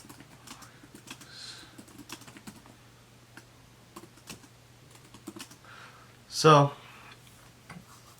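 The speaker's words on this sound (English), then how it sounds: "I'll explain after I finish typing out this input line of code" Quiet, irregular clicking of keys on a computer keyboard, with a brief louder burst partway through and a faint steady hum underneath.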